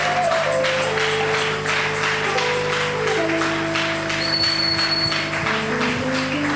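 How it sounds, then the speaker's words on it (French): Church congregation clapping over music, a dense steady patter of applause with organ or keyboard tones sustained underneath throughout. "Sous vos propres acclamations."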